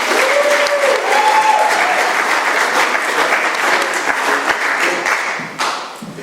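Audience at an AA meeting applauding to welcome a speaker to the front, dense sustained clapping from a crowd close by that tapers off near the end.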